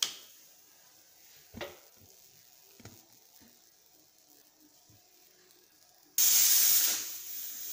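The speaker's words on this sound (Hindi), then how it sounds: "अब कुकर का ढक्कन लगाकर इसमें 1 विसल आने तक पकाएंगे।" Quiet kitchen background with a few clicks, then a sudden loud, sustained hiss of steam bursting from a pressure cooker whistle while cooking pulao near the end.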